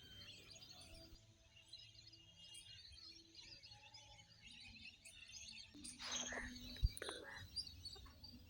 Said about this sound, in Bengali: এই পাখির কিচিরমিচির আওয়াজ